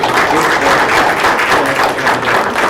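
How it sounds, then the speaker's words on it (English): An audience gives Susan a round of applause after a talk on Native American ancestry, loud, dense clapping from many hands sustained evenly for a few seconds. "let's give Susan a round of applause"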